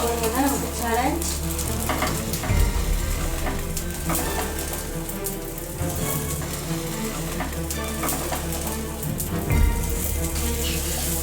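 An omelette sizzles and fries steadily in a pan with a constant crackle and occasional soft clatter from turning it, with no talking.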